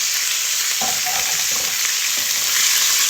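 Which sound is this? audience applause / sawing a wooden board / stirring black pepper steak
stirring black pepper steak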